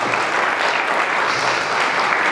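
Steady, dense applause from a live audience at a religious lecture, loud and close, filling the moment without a break.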